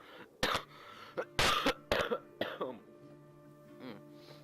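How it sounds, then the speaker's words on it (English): Several sharp coughs and throat-clearing bursts from one person with a lingering cold, loud and close, coming in uneven clusters before easing into quieter breathy sounds. "That was the cough I was talking about."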